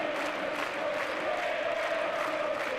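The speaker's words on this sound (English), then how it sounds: "Fans really starting to make some noise now." An arena crowd of basketball fans roars and cheers at a Basketball Champions League quarter-final between Club Nacional and Halcones de Xalapa, a steady wall of noise with a whistle-like tone running through it.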